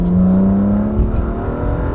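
A Cadillac V8 racing, its exhaust a steady roaring drone that swells briefly as it passes, heard alone for about two seconds.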